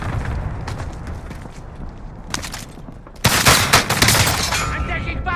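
Warzone video game gunfire: rapid bursts of shots that grow louder and denser partway through, with clustered cracks over a busy background.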